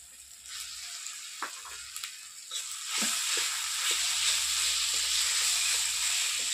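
Spice paste frying with boiled potato added to the pan: a few spatula clinks, then a loud, steady hissing sizzle that swells and holds, close up with no talking.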